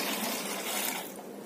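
A bowl of water is poured into a container packed with lemons and salt for lemon pickle, giving a continuous close splashing pour that tapers off near the end, with no voices.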